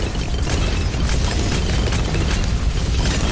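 Mortar tower explosions in Bloons TD, a dense continuous roar of overlapping booms and bursts, loud and unbroken throughout.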